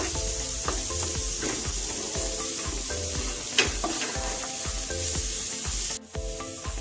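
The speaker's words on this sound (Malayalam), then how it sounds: "ഇനി അതിലേക്ക് ചെറുതാക്കി അരിഞ്ഞു വെച്ച ഉള്ളി ചേർത്ത് കൊടുക്കുകയാണ്. ഇനി നല്ലോണം ഒന്ന് വഴറ്റിയെടുക്കാം." Chopped onion sautéing with garlic in a pan makes a loud, constant sizzle, broken by rhythmic spatula stirs and scrapes close by, with a brief clatter near the end and no talking.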